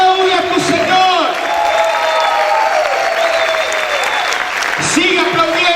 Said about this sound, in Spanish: Sigue aplaudiendo.